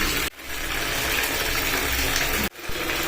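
Hot water from a geyser gushes steadily into a small bucket, a loud continuous rush broken by two brief pauses where the flow cuts off.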